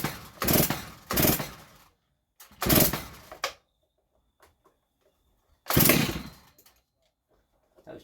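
A Stihl MS290 chainsaw with a freshly rebuilt carburettor fires in several loud, rough revving bursts separated by near silence.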